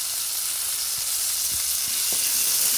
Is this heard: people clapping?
no